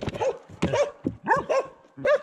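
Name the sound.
dogs barking at a cyclist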